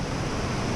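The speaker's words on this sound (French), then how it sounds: "C'est une cascade." A waterfall on the Vence river, a dense steady roar of rushing water filling the sound close up, with no break or voices.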